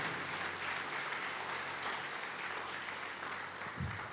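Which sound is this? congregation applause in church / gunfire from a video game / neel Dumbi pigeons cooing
congregation applause in church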